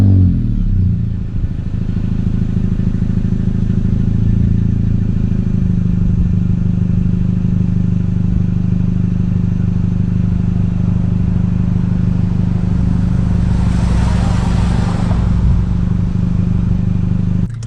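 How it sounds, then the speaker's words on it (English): A 2019 Honda Civic Sport with a K20C2 engine and a muffler delete cold-starts with a loud bark, then settles into a steady, droning high idle that stays close and loud throughout. "here's a quick cold start"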